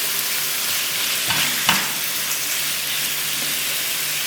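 Carrots and chicken fry together in a pan with a steady, loud sizzle throughout, broken by two brief stirring scrapes partway through, with no talking.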